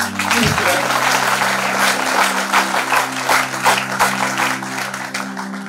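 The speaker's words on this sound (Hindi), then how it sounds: "आप लोग ताली बजा करके हमारे माननीय मंच का आप सम्मान करेंगे।" Children and guests at a stage event clap together in a loud, dense round of applause, over a low sustained tone from the sound system.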